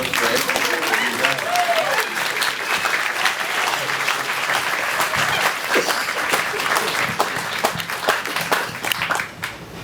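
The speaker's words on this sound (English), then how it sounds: "You can clap." Wedding guests break into loud, sustained applause, dense clapping from a full crowd that swells and holds for nearly ten seconds, with a faint voice briefly mixed in.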